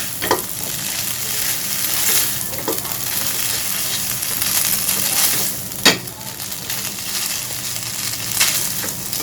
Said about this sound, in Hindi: ये तो मैं साथ ही चिकन भी ऐड कर दूंगी इसमें और मिक्स करेंगे।